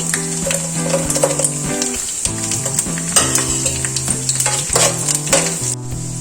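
Coconut pieces, cashews and raisins fry in a pan for green gram payasam, giving a loud, continuous close sizzle with repeated stirring scrapes throughout.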